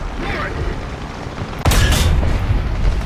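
A tank cannon fires in a War Thunder tank battle, one sudden loud boom about halfway through that rolls on as a heavy rumble over a steady engine drone.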